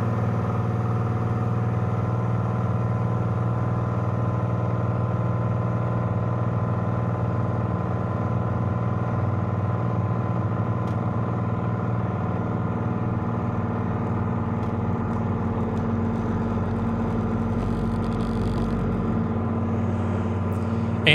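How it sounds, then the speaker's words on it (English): A canard light aircraft engine runs at takeoff power from Breckenridge in gusty wind, a loud, steady droning hum with strong low harmonics that holds nearly constant throughout, close and alone with no talk. "So time to take off from Breckenridge and head on home."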